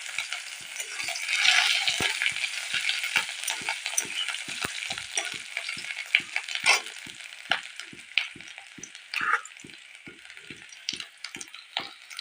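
Ginger frying in a pan for a vegetarian papaya and potato curry, a continuous sizzle with a steady, rhythmic series of spoon scrapes against the pan, close and fairly loud.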